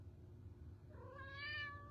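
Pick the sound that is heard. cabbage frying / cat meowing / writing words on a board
cat meowing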